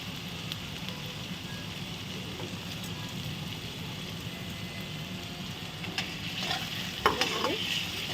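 Govindobhog rice with turmeric powder stir-fried over low heat in a pan for muri ghonto, giving a soft, steady sizzle and scrape that runs throughout, with a few louder stirring scrapes near the end.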